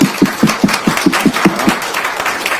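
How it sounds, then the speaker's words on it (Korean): Short burst of audience clapping at a public talk, a rhythmic series of distinct claps for about two seconds that thins out toward the end. "박수 한번 주죠."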